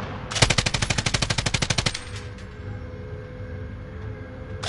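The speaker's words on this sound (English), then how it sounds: "So this new weapon, the LC-10, you know, very powerful." A burst of LC-10 automatic fire in Call of Duty, about sixteen rapid, evenly spaced loud shots over under two seconds, then a low ambient hum.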